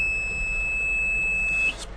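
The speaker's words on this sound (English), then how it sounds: "So it's a very fancy tractor, this. It beeps, a lot of beeping." A tractor on a dairy farm gives off a steady high-pitched warning tone that holds unbroken, then cuts off near the end. It is close, with a low engine hum underneath and no talk.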